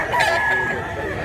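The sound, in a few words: rooster crowing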